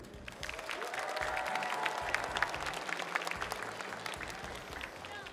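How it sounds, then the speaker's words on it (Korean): An audience at a Korean science concert breaks into broad, steady applause, dense clapping with a few cheers mixed in that holds at an even level throughout. "큰 박수 받고 시작하도록 하겠습니다."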